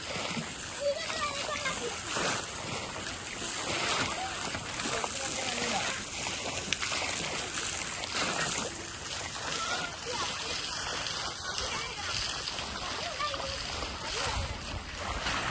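Water splashes and churns continuously in a resort swimming pool while children's voices chatter and call out over it, busy and lively throughout.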